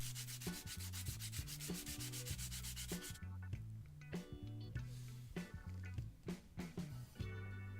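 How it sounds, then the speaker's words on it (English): Wooden blocks are hand sanded to smooth their edges, giving a quick rhythmic series of rubbing strokes, close and fairly quiet. "Then I gave them a quick sanding down just to smooth all the edges over"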